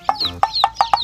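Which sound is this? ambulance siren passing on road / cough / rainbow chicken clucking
rainbow chicken clucking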